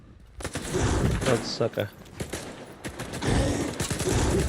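Rapid bursts of gunfire in the video game S.T.A.L.K.E.R. 2, rattling on and off against a noisy backdrop, with someone speaking briefly over the shots.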